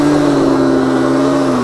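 A quad bike's engine holds steady at high RPM with the throttle pinned, a loud, continuous mid-pitched drone that sags slightly in pitch toward the end, close by.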